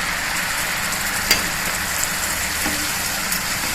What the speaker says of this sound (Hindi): ये देखिए ये हमारा प्याज भुन गया है और अब हम इसमें ये देखिए 1 टमाटर की ग्रेवी डालेंगे